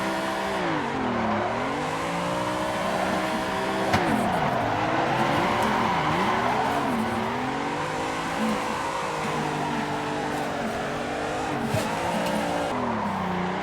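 A car drifts in the sim racing game Assetto Corsa on an online server, its engine revving up and down in long sweeps while tires squeal steadily through repeated slides, loud and continuous.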